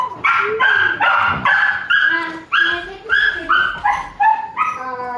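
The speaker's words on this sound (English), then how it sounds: "shut that dog up!" A dog in the game Evil West barks repeatedly with short yips and whimpers, loud and close, in a steady run of barks with no talk over it.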